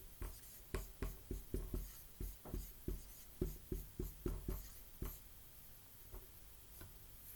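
Marker or chalk writing math on a classroom board, a quiet series of rapid taps and short strokes in bursts, then sparser near the end, with no talking.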